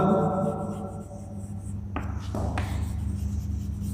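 Chalk or marker strokes on a board while writing out a sentence, a few short scratchy strokes over a steady low background hum.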